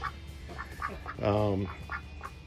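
A duck quacks up close, a short run of nasal quacks with one longer, louder call in the middle, heard over a quiet indoor background near rabbit cages.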